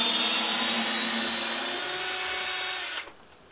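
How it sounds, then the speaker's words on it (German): A cordless drill-driver, pushed hard in an extreme test, whines steadily as it backs a screw out of wood, the motor holding an even pitch before cutting off abruptly near the end, leaving quiet. "Mal schauen, wie es die Schraube rausgeht."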